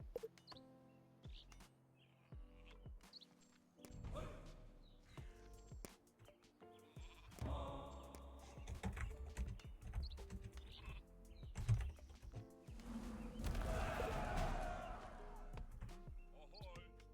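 Sheep bleat softly amid sparse in-game clicks and ambient sounds of the Northgard strategy game, with occasional short bleats scattered over quiet background activity.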